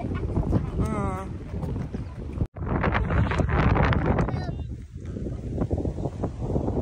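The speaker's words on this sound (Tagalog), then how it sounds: "Lakas ng hangin." Strong wind gusting by a lake in Kelowna, BC, roaring and buffeting close to the microphone in heavy bursts, with people talking over it and a brief dropout partway through.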